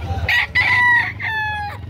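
A rooster for sale at a market in Carbon, Cebu crows loudly and close, a few strained, drawn-out notes in quick succession against a low background murmur.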